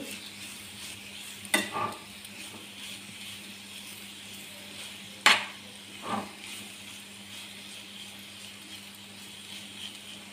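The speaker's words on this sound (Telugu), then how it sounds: "ఒకసారి క్యారెట్ మిక్స్ చేసుకోవాలి" Carrots being stirred in a pan over a low flame while making carrot halwa: a soft steady sizzle with a few sharp scraping clacks of the spoon against the pan, no voices.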